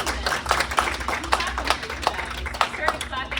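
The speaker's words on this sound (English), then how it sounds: "I started clapping instinctively" An audience claps after a talk, a steady patter of hands, fairly close and moderate in volume, lasting a few seconds.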